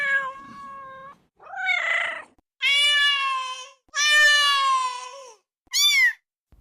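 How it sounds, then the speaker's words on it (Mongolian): A cat meows four or five times, loud and close, with drawn-out wavering calls separated by short silences, some rising into a strained caterwaul. "Зүйтэй муур байна шүү дээ."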